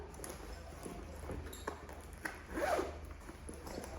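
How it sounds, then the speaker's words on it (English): A zip slides shut on the rear pocket of a leopard-print Mulberry Alexa leather handbag, one short rasping pull close up against a quiet room. "at the back got a zipped pocket there. I'll zip that up again."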